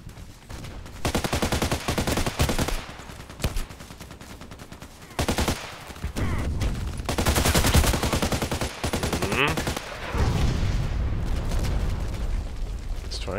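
Sustained HK 417D assault rifle fire in a shooter video game, dense rapid bursts with brief pauses, loud and close, mixed with explosions and surrounding battle noise.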